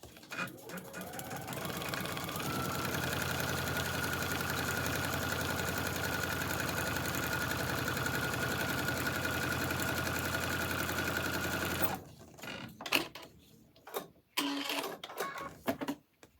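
A sewing machine running continuously while stitching foundation-paper-pieced quilt fabric, a steady close whirring drone for about twelve seconds before stopping, followed by scattered handling clatter and rustling.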